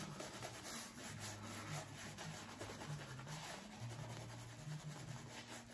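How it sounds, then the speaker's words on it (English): Shaving brush swirling Spartacus shaving soap by Ariana & Evans into lather, a soft continuous close rubbing and swishing with faint rhythmic strokes. "See what kind of lather I can make with this"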